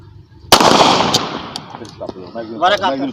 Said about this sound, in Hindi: मैगजीन फायर करो